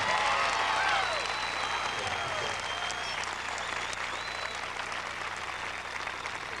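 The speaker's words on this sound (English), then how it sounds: "Please give these people a round of applause." A graduation audience at a high school ceremony claps steadily, dense applause slowly thinning over several seconds, with a few whistles and cheers scattered through.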